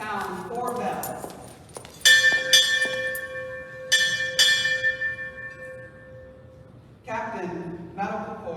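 Four ship's bells struck in two pairs at a Navy change-of-command ceremony for NMRTC and Naval Hospital Jacksonville, each ringing strike decaying in a hall, with announcer speech before and after.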